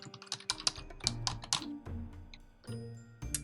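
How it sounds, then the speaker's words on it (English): Quick, irregular clacks of fingers typing a username and password on a computer keyboard, close and crisp, in short bursts with brief pauses between keystrokes. "And then I can type my username and password."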